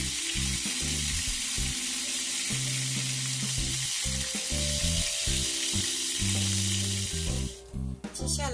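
Pork wrapped in tofu skin pan-frying in oil gives a loud, steady sizzle that runs almost the whole time, dipping briefly near the end, with a low tonal background underneath.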